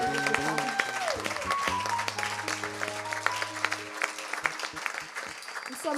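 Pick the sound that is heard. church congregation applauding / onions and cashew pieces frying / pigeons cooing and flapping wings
church congregation applauding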